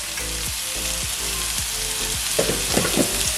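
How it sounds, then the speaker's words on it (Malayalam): Two large chopped onions fry in coconut oil for butter chicken, a loud, close, continuous sizzle with a few utensil scrapes and clinks near the end. "നമ്മൾ അരിഞ്ഞു വെച്ചിട്ടുള്ള സബോള ചേർത്ത് കൊടുക്കണം."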